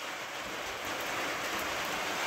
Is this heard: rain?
yes